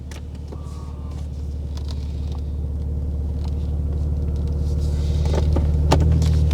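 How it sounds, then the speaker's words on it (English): A BMW engine with OEM-style exhaust burbles idles with a deep, steady low rumble, gradually growing louder, with a few light clicks and taps over it. "let's start the car up and hear how the OEM style burbles sound"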